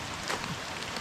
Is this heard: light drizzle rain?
yes